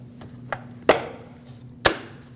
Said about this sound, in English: Just unclip them.